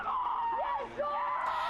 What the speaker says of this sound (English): I think she might be, with that scream.